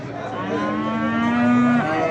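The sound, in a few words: calf mooing at livestock market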